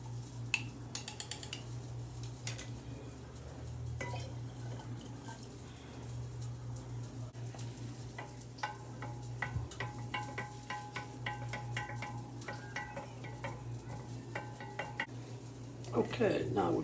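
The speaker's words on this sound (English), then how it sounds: "I put the yeast in here, and now we're gonna mix it together" Yeast is stirred into homemade Himalayan wine, with a spoon clinking and scraping against the container in irregular strokes over a steady low hum, fairly quiet and close.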